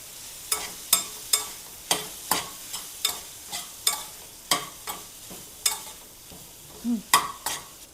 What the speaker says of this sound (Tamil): இப்போ நம்ம வெட்டி வச்சுருந்தோம்ல இந்த நார்த்தங்காய் போட்டுடலாம். இதையும் நல்லா ஒரு 2-3 நிமிஷம் நல்லா வதங்கட்டும்.